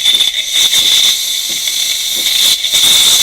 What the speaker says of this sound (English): This light is flashing, indicating that we're steaming.